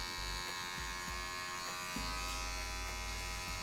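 Electric hair clippers fitted with a half guard, fading hair in a barbershop: a steady close buzz with brief drops and surges as the blade moves through hair, and no talking.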